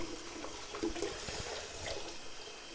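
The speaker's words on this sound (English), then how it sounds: "So you just give it a good rinse, get your thumb in there, get them real clean." Running tap water splashing over raw shrimp being rinsed and rubbed clean in a kitchen sink, a steady, moderately quiet flow with small irregular splashes.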